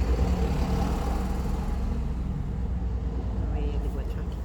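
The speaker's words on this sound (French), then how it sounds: "il y a une grosse voiture qui passe là, donc ça fait du bruit" A large car passes outside, its engine and tyre noise forming a steady low rumble that fills the whole stretch without clear onset or fade, with a voice talking over it.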